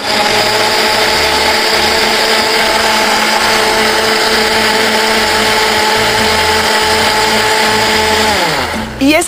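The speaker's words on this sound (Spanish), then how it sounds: "Vamos a licuar." A blender whirs loudly and continuously, blending strawberries and hibiscus for a granita, its motor pitch steady with a pulsing chop before winding down abruptly at the very end.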